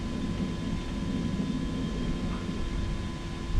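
A Hawker Hurricane fighter landing at an airshow, heard as a steady, loud engine drone with broad rumbling noise that holds constant throughout, no voices over it.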